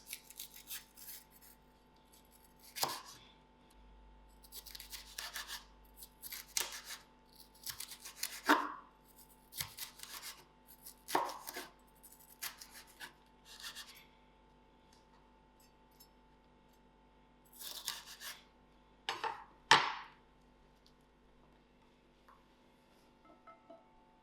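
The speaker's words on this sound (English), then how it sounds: "Cutting up my pepper in long strips." A pepper sliced into long strips on a board, with a string of sharp knife cuts, some in quick clusters and others spaced out, close and fairly quiet, no voices.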